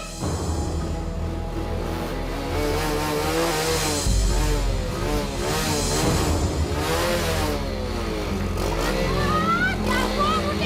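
A motorcycle engine revs loudly and continuously, its pitch rising and falling in repeated surges, with voices heard faintly underneath.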